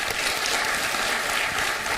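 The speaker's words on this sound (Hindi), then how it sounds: "बहुत तालियां" Studio audience applause on a television talk show, a dense, even wash of many clapping hands heard alone at moderate level throughout.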